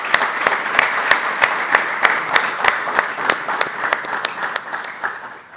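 A live audience applauds basketball legends at a youth league final-four talk event, close and loud, with dense, fairly rhythmic clapping that fades toward the end.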